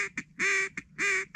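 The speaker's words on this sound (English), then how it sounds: "Hear the snow geese?" Snow goose calls ring out in a repeating pattern, loud nasal honks alternating with short yelps, close and clear with no talking, during a duck and goose hunt in Alberta.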